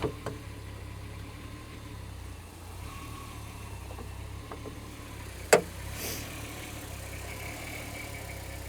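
A 2006 Lexus LX 470 with a 4.7-litre V8 sits idling with a surging idle and a suspected pulley or tensioner bearing noise, a faint low hum broken by one sharp click partway through.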